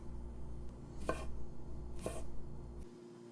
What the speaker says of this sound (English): finely chop some dill pickles. These are garlic dills